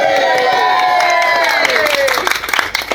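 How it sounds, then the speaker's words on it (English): Wedding guests clap and cheer in a lively round of applause at the speeches, a dense crowd sound with voices calling out over the clapping throughout. "Round of applause for Sinks."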